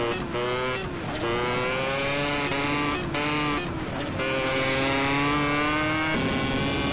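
A modified Yamaha RD motorcycle in GTA roars steadily at high revs, a loud, close, continuous engine note that shifts pitch through several gear changes, with no talking over it.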